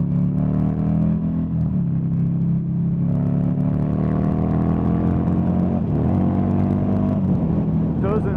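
Buell XB9SX motorcycle engine revving hard while being ridden, a loud, steady mechanical drone whose pitch climbs and drops through gear changes, with wind rush throughout.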